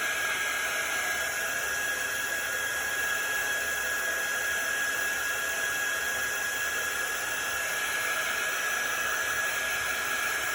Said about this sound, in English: I love the quick dry tool.